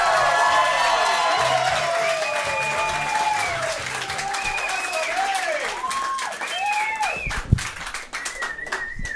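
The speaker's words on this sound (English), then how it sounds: "Let's start the round of applause. Let's make it nice and loud." A comedy club audience breaks into sustained loud applause and cheering, with whoops and shouts over continuous clapping, while a voice carries on over the crowd.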